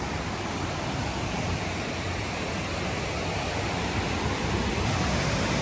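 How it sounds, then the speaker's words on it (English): A waterfall in the Alaskan wilderness roars as a dense, steady broadband rush of falling water, loud and close, unbroken throughout with no voices over it. "as you guys can see, we made it to the waterfall"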